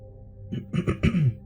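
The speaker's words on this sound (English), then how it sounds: "Excuse the cough." A person coughs and clears their throat several times in quick, close bursts over a low steady background hum, during a game stream.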